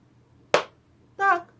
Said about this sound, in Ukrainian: Ми плескаємо